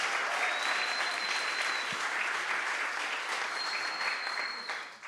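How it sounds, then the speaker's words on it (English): Steady audience applause for a podcast studio crowd, dense and sustained at full strength for about five seconds, with a faint whistle-like tone running through parts of it before the clapping starts to thin at the very end. "Let's give that a round of applause."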